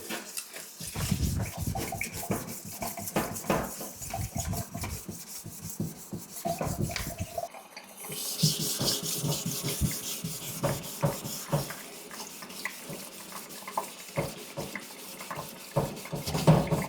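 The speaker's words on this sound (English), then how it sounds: "It's important to keep the sandpaper nice and wet so that you don't burn the plastic as you sand it." Wet 2000-grit sandpaper rubs back and forth over a plastic Land Rover Discovery headlight in quick, scratchy, rhythmic strokes, close and steady throughout.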